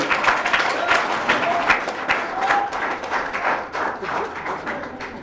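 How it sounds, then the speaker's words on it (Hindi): Steady applause from an audience at a college valedictory function, many hands clapping in a dense, continuous patter that holds for several seconds. "जोरदार तालियां"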